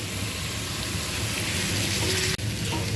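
Boiled wild kavala greens hit spices frying in a pan, giving a dense, steady sizzle close by with faint stirring scrapes and a brief clatter near the end.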